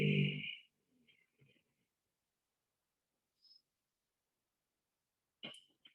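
Snoring-like throat breathing during pranayama yoga practice, a faint rasping breath near the start, a few soft traces in between, and another short breath toward the end, with long quiet gaps and no talking.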